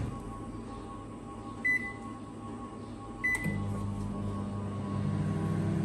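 Microwave oven heating a bowl of yakhni broth, a low steady electric hum with two short bright beeps at the start of heating, the motor drone getting fuller as it runs; quiet and close.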